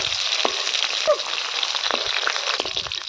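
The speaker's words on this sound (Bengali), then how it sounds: "মাছের তেলে কপিগুলো ভেজে নেব" Steady crackling sizzle of fish frying in hot mustard oil, with occasional sharper pops and faint clinks throughout.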